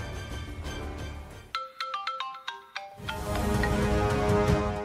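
A phone ringtone for an incoming urgent call plays as a clear melodic tune of bright repeated tones, starting over background music, then ringing alone in short spaced notes before the music swells back in.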